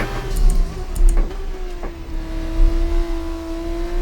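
An F2 race car in the F1 24 video game at the Qatar circuit hums with a loud, steady engine note, its pitch drifting slightly, punctuated by a few sharp clicks and thumps.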